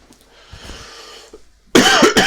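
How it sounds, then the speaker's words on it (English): A person coughs in a couple of harsh, loud bursts close by, after a stretch of quiet background noise. "apparently now I have a cough that I haven't had all this time"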